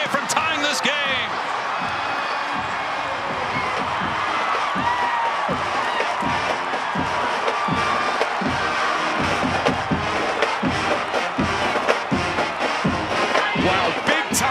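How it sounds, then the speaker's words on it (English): Stadium crowd at a college football game between Texas and Oklahoma State roars continuously after an Oklahoma State touchdown, a loud dense wall of cheering with sharp thumps and whoops through it, a commentator talking over the top. "this crowd absolutely loving it as they come alive"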